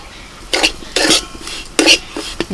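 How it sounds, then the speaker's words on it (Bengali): Semolina goes into hot ghee in a wok and is stirred, giving four or five brief, distinct metal spoon scrapes and clinks against the pan, close and otherwise quiet. "এর মধ্যে দিয়ে দিচ্ছি সুজি।"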